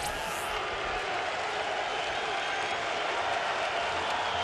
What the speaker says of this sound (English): Crowd has been vociferous tonight, to say the least.